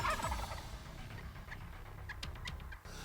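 A hard-hunted wild turkey on public land gobbling in the distance, a few faint rattling calls amid soft outdoor ambience, quiet and far off.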